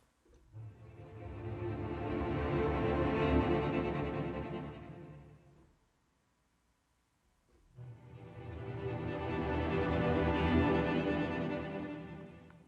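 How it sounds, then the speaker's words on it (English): Two sustained swells of bowed violins playing tremolo, rapid repeated notes, each rising to a loud, rich peak and fading, separated by a short silence. "I'm going to use the bow to repeat notes at a fast speed"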